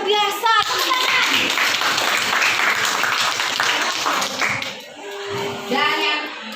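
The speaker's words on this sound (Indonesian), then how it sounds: "Tepuk tangan." Children in a classroom clap their hands together in a loud, sustained burst of applause lasting several seconds, with young voices chattering over it before it fades near the end.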